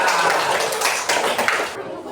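Schoolchildren clapping their hands in an elementary school classroom during a lesson with a robot game, a busy burst of overlapping claps mixed with children's chatter and voices, cutting off abruptly near the end.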